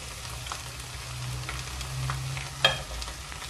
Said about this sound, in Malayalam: ഒന്ന് ഇളക്കി കൊടുക്കാം.